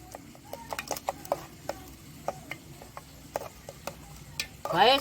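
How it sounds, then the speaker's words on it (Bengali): Food is stirred in a cooking pan with ghee, producing scattered scrapes and clinks of the spoon over a low sizzle, with a brief rustle at the end. "আমি একটু ঘি দিয়ে দিচ্ছি দিয়ে আমি নেড়ে দিচ্ছি"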